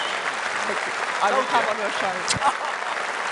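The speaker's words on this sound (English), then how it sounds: "Round of applause." Audience applause at a Reform UK political speech in a Birmingham hall, steady clapping throughout with someone talking over it.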